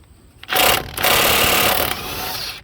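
An impact wrench works on a ball joint of a 2003-2009 Dodge Ram 2500/3500 truck, a close, loud, rattling hammer burst that starts abruptly and runs for about two seconds before easing off.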